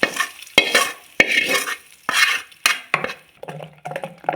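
Tomato being sautéed in a pan, with repeated brisk spatula scrapes in an uneven rhythm over a light sizzle, close and fairly loud with no talking.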